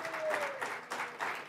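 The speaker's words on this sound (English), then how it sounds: "Let's give her a round of applause." A room full of people applauds at a local fast-pitch business competition in the Greater Corona area, a steady, dense wash of clapping that swells in a few waves and carries straight through without a break.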